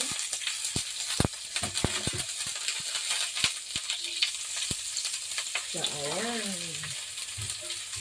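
Red onion frying in a pan gives a faint sizzle under scattered clicks and taps of utensils, with a brief whining tone partway through, quiet and close.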